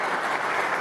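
Applause for ministers in a Venezuelan live government broadcast from Zulia, heard as a dense, steady wash of many hands clapping at close range without a break.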